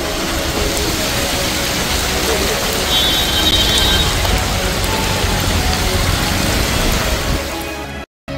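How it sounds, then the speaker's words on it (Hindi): Heavy rain pours down in a steady, dense roar with a low rumble of traffic underneath, continuing unbroken until it stops abruptly, during continuous flood-causing rain in the Kalyan area near Mumbai. "कल्याण इलाके में भी कल से ही लगातार बारिश हो रही है"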